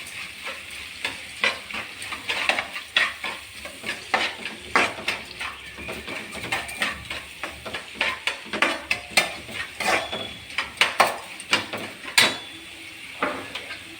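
Tomato rava upma being stirred and sautéed in a pan, with a steady close sizzle and repeated scraping, clinking strokes of a utensil against the metal throughout.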